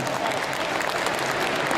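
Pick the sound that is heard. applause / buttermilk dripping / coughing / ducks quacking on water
applause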